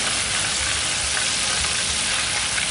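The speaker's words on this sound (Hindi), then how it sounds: "इसी तरह सारा चिकन में फ्राई कर लेंगे" Chicken pieces deep-frying in hot oil for crispy broast fried chicken, a steady dense sizzle and crackle filling the whole stretch, loud and close with no talk.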